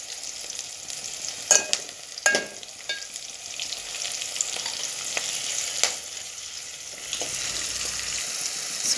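A spoonful of ginger garlic paste fries for chicken curry, a close steady sizzle broken by several sharp scraping strokes as it is stirred in the pan.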